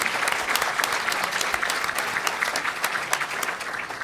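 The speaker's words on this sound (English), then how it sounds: "Big round of applause for Senator Biss." Audience applause for Senator Daniel Biss at an Illinois pension panel, a dense, steady patter of many hands clapping at close range for about four seconds, with no talking over it.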